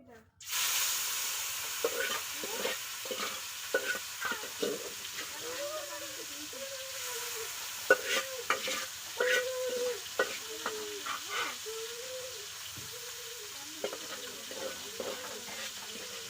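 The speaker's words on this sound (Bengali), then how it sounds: "আজকে হচ্ছে মাছটা একটু ভেজে নিব তার জন্য আমি তেল চুলায় গরম দিছি এখন ভাজা মাছগুলো দিয়ে দেবো" Pieces of already fried fish go into hot oil on a stovetop and sizzle continuously, with scraping stirs and clinks, while a person talks over the cooking.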